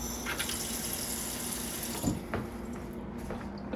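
Tap water gushes into a skillet in a kitchen, a continuous splashing flow that thins out partway through, with no talking.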